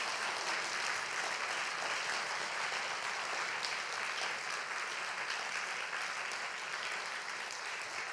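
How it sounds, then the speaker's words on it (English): Audience applause at an evening event, a dense, even wash of clapping that holds steady throughout, moderately loud and without voices. "Could you give them one last round of applause"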